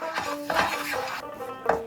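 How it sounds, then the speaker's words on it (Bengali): Ground lentil paste is worked into gram flour in a pan over low flame, with close, steady scraping and clinking of a utensil against metal throughout. "এর মধ্যে এবার আমি ডাল বাটাটা দিয়ে দেব"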